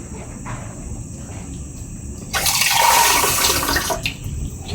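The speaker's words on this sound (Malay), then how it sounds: "Masukkan air." Water poured into a cooking pot at a garden hut to boil cucumber leaves, a rushing splash starting midway and continuing, with insects chirping steadily in the background.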